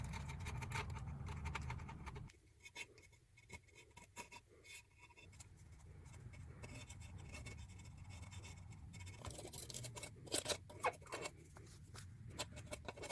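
Razor blade prying and scraping at a crankshaft seal on a single-cylinder Briggs and Stratton engine case, close-up, giving irregular scratchy scrapes and small metallic clicks that grow busier toward the end.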